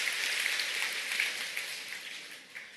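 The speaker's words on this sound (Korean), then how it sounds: "여러분들 자신을 위해서 박수를 치셔도" An audience at a seminar applauds steadily and fairly loudly, a dense wash of clapping that holds through and eases slightly toward the end, with no talk over it.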